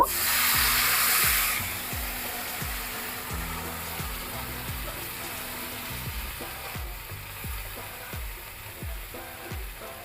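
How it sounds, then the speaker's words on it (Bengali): Water poured into a hot cooking pan for a Bengali dish of taro stolons (loti) with raw moong dal: a loud hiss at first, then a steady softer sizzle that continues under background music. "এবার একটু জল দিয়ে দিব"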